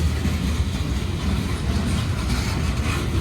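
A long Union Pacific freight train rolling past nearby in North Platte, a steady low rumble with faint rhythmic clatter of wheels over the track, continuous throughout.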